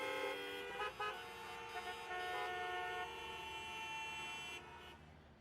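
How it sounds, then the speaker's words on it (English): Car horns honk in Mumbai city traffic at a red signal: a long, layered blare of overlapping horns, held steadily for several seconds before fading out, no talking. "Here, people honk even when the signal is red."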